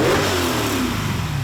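Twin-turbo V8 swapped into a Porsche 911 revs hard up close, a deep throaty roar that sweeps upward and then falls back toward idle over a second and a half, with no talk.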